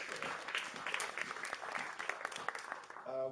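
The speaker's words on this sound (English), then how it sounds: "Give them a round of applause for the wonderful venue that they provide for us." Audience applause fills the room at an SVVR virtual reality meetup, a dense, steady patter of many hands clapping from a crowd, fading as a voice begins speaking at the end.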